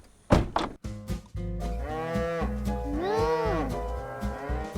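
Wagyu cattle in Miyazaki, Japan, give a loud, close, drawn-out moo with rising and falling tone, preceded by a few sharp knocks and thuds.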